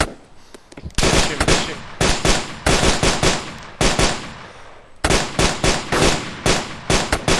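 Gunfire in the survival shooter DayZ during a firefight with a player carrying an M40 sniper rifle: loud, sharp shots in rapid clusters with short gaps, near and dominant, with no talking.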